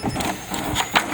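A Brother J200 inkjet printer runs a head cleaning cycle, giving a steady mechanical whir with a couple of brief louder pulses, heard up close without speech.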